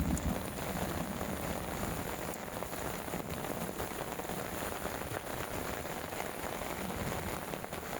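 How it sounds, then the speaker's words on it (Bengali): Heavy rain pours steadily outdoors beside a river where a ring net is being set for fishing, a dense, unbroken hiss of drops close by and loud for the whole stretch, with no voices. "প্রচুর বৃষ্টি হচ্ছে গাইস"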